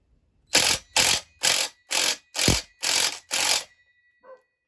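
Seven quick, loud ratcheting bursts from a small power torque wrench bumping tight a part during a Husqvarna 288/288XP chainsaw oil pump or oil tube replacement, followed by a faint short click.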